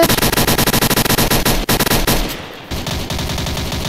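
Rapid automatic gunfire from the Roblox game Military Tycoon rattles in loud, dense bursts, breaks briefly, then resumes as a steady stream of shots during a raid.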